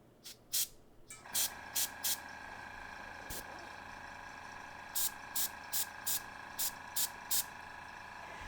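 Short hissing bursts of an airbrush spraying paint onto a wooden surface, a few spaced puffs early on, then a steady run of brief, evenly repeated sprays over a faint background hum.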